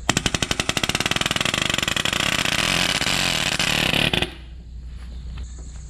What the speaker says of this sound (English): It's palm nailer here.